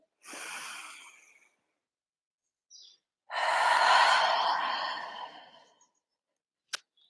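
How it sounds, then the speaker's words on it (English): A person exhales audibly during a yoga session, two breathy sighs out through the mouth, the second longer and fuller, followed by a faint short click. "Out breath to release"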